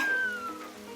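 A newborn kitten meows once, a thin falling cry up close and fairly clear, with a soft patter like rain behind it.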